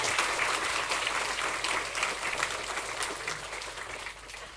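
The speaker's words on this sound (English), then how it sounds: "please give a round of applause." Lecture audience applauding after a distinguished professor's public talk, many hands clapping steadily at moderate volume, the sound easing gradually over a few seconds.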